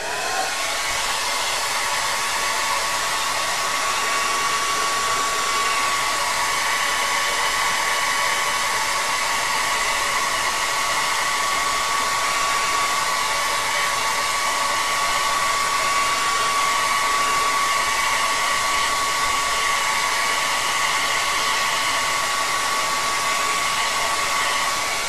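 A hair dryer blows continuously on red paint, a loud, steady whirring hiss with a constant high whine, heard close and alone with no talking.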